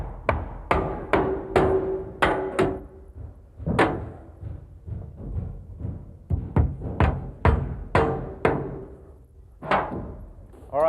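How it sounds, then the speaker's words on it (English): Roofer's nails are hammered into roof trim on a Cape-style house, a series of sharp, loud hammer blows in quick bursts with short pauses between them, while people talk between strikes. "And this can just be tacked on with roofer's nails"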